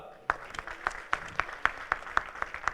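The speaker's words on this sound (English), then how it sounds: "A round of applause for Telangana." Applause for award-winning state teams at a teachers' competition ceremony: a modest, fairly distant round of clapping with distinct, evenly spaced claps standing out over the softer patter.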